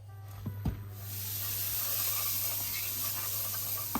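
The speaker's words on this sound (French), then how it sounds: "je vais y faire revenir le gingembre, l'ail et l'oignon frais" Ginger, garlic and green onion sizzle in a little hot oil, a sustained close hiss that swells after a couple of quick taps and stays steady to the end.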